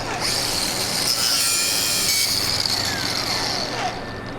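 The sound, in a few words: cutting an engine line on a Cummins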